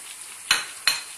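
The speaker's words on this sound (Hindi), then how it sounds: "अब मैं इसमें टमाटर डाल दूंगी 2 अदद जो मैंने काटे थे, और इसके साथ ही तमाम मसाले भी डाल दूंगी" Chopped tomatoes and spices sizzle in a hot frying pan over onions and cumin, heard as a steady soft hiss. Two sharp stirring scrapes cut through it, and no one speaks.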